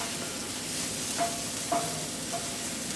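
Onions with celery sizzle softly in a pan, giving a steady low frying hiss with a few faint stirring scrapes.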